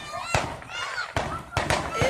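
Fireworks burst outdoors in three or four sharp, loud bangs spaced irregularly, with people talking between and over the blasts.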